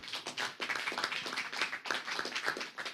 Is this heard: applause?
yes